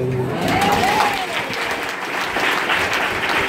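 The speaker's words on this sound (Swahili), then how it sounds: "Sema amen na upinde makofi." A church congregation applauding during a prayer service in Dar es Salaam, a dense burst of clapping from many hands under a voice, loud and close.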